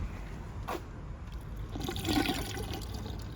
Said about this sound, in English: I'm just going to add a little bit of vinegar